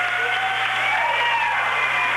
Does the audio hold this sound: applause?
yes